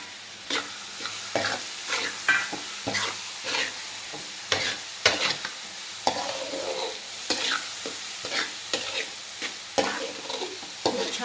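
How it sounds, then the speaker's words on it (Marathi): Finely chopped tomatoes frying with onion and capsicum in butter for Mumbai-style pav bhaji, a soft sizzle under frequent rhythmic scraping and knocking of a spatula stirring and mashing in the pan, no voices. "टोमॅटो पण चांगला भाजून घ्यायचा आहे व्यवस्थित एकदम."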